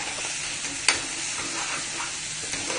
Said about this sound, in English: Now I will fry this till the masala separates from the oil.